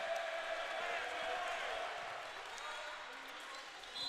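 A crowd roars steadily in a high school gym during a Nettleton at Cabot girls basketball game, with the student section cheering loudly and continuously before easing slightly near the end.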